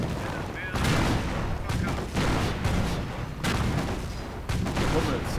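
Sustained rattling gunfire in a World War II strategy game, rounds pounding a Crocodile flamethrower tank, dense continuous volleys with booming impacts, loud and unbroken throughout.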